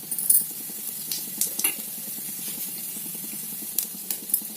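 Mustard seeds and cumin crackle in high-heat oil for okra fry, giving a soft continuous sizzle broken by quick sharp pops and clicks scattered across the clip.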